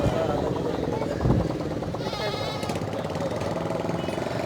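A goat with two teeth and two kids bleats at a busy livestock market in Orangi Town, Karachi, a near cry heard over crowd chatter and a rattling engine in the background.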